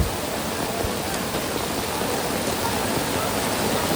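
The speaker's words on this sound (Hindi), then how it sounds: "ये दुकानों के ऊपर जो टीने हैं ना, उस टीन पे से कैसा पानी गिर रहा है" Heavy rainwater pours off the tin roofs of shops during a cloudburst in Haridwar, a loud, steady rushing wash of water that continues without a break.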